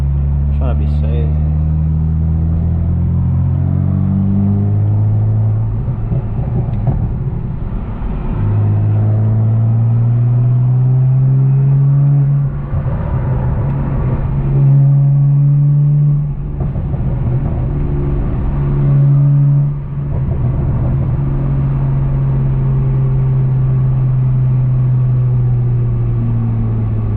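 A tuned BMW 335xi with more than 600 all-wheel horsepower and a 6-speed manual accelerates up close, its engine tone climbing in steady pulls broken by brief dips at each gear shift, while a voice talks over the drive.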